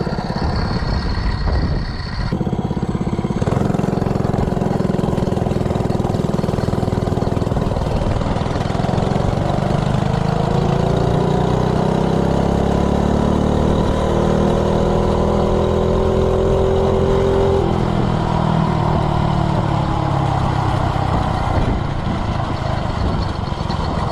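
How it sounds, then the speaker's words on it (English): A Coleman CC100X minibike with a stock-timed 3 hp engine pulls away from a standstill, its small single-cylinder engine revving up with a rising, buzzing whine that climbs steadily, then drops back near the end, loud and close. "Now I'll do a 0 to 30 run and see what it'll do. 0 to 30 microbike with a stock timing 3-horse Coleman engine."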